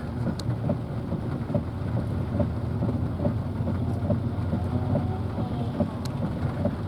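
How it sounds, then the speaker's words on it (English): Heavy pouring rain drums steadily on a Toyota truck, with a low, constant engine rumble and faint rhythmic thumps that may be the windshield wipers sweeping across the glass. "I can even hear that little thing through all this rain and then windshield wipers."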